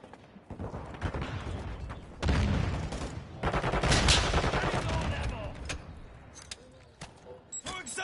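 Gunfire in Call of Duty Modern Warfare rattles in bursts and single shots of varying loudness, with louder clusters in the middle and sharp cracks toward the end, under game voice callouts.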